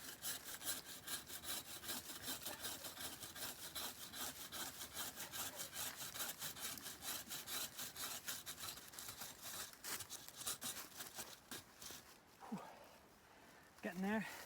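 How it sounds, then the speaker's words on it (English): A tree trunk is cut through with a hand saw to fell it, producing fast, steady back-and-forth rasping strokes up close. Near the end the sawing stops and the voices of people can be heard talking. "So start cutting in from this side and it's gonna tip that way."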